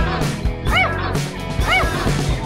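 Teddy poodles bark impatiently on a trip near a pool of plastic balls: several sharp, close yips and barks in quick bursts, with faint background noise throughout.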